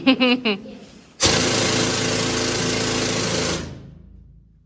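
A loud, steady rock drill in a mine starts abruptly after brief talk and runs with a harsh, continuous rattling roar before winding down.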